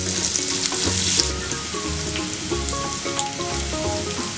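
Food fries in hot oil over a medium flame, giving a close, dense, continuous sizzle and crackle that holds steady throughout, with faint clinks and occasional pops.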